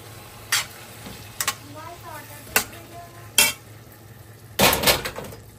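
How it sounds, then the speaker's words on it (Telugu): Tomatoes go into a pan of roasted onions, with sharp metallic clinks of a spoon against the pan and a burst of sizzling stirring near the end, close by over a faint background hum. "ఇప్పుడైతే టొమాటోస్ వేద్దాము"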